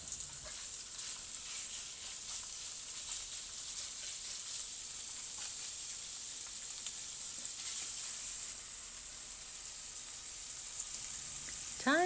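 Ground meat sizzling steadily in a hot pan, a constant crackling hiss that stays even throughout with no voices.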